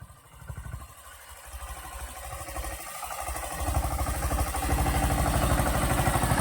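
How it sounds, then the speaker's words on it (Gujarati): A tractor engine chugs steadily as a new driver takes it along, the rhythmic mechanical throb swelling louder over several seconds with clattering underneath. "આ ભાઈ જો આપણે ટ્રેક્ટર હાંકે છે નવા ડ્રાઈવર છે"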